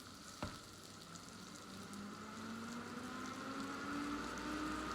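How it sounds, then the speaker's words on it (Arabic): Rice fries in hot oil for an Indian-style dish, giving a continuous close sizzle with crackle and stirring, and a faint tone rising slowly underneath, with no voices. "ونقلوه هكا في هذا الزيت كي شللناه دروك نقلوه"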